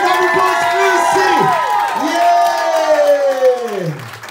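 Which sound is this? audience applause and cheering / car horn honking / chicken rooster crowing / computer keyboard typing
audience applause and cheering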